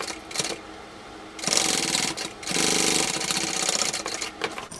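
A sewing machine top stitching a bucket bag, running in bursts: a short run, a pause, then two longer rapid rattling runs close by.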